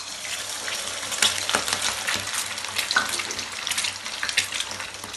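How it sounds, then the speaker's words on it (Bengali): Two eggs scrambling in white oil in a pan, a steady close broadband sizzle and crackle with occasional stirring scrapes, no voices. "একটু সাদা তেল দিয়ে নিয়েছি, আর দেখো এখানে আমি একটু দুটো ডিম নিয়ে একটু স্ক্র্যাম্বল টাইপের করে নেব।"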